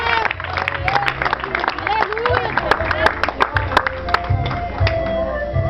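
Church congregation at a Pentecostal service clapping in praise, steady dense applause mixed with voices and shouts throughout, fairly loud and close.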